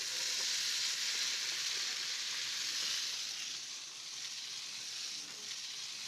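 Brussels sprouts hit a hot pan with onion and salt, sending up a loud, steady broadband sizzle that holds strong for a few seconds and then eases slightly, with no voices over it.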